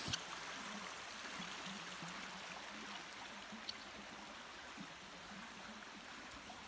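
A county creek near a national forest flows steadily, giving a faint, even hiss of running water with a soft low burble throughout and no voices.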